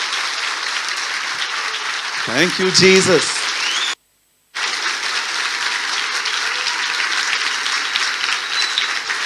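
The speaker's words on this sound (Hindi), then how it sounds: "आइए हम प्रभु के लिए एक जोरदार ताली बजाएं" A church congregation at a Christian worship gathering breaks into loud, sustained applause that fills the whole stretch, with a voice calling out briefly over it and one short silent gap.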